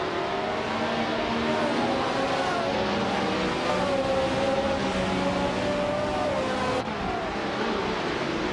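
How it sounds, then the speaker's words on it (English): A Parnelli VPJ4B race car from 1976 drives in a racing game, its engine a sustained high whine that shifts pitch as it revs through gears, loud and continuous with no speech. "Wayne 94 is driving the Parnelli VPJ4B, a car known for its innovative design."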